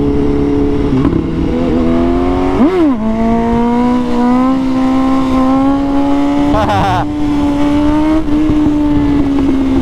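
A big motorcycle's engine revs hard and holds a steady high drone for a clutch-up wheelie, with sharp rising throttle blips near the start and again midway, loud and close, and a voice talks under it.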